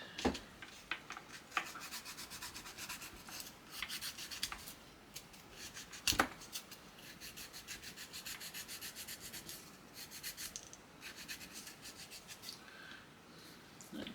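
Small wooden part for a 1/6 scale SAS jeep model being hand-sanded up close: steady, scratchy rubbing strokes in a repeating back-and-forth rhythm, fairly quiet, with a couple of sharper knocks and no talk.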